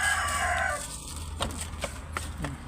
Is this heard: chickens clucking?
yes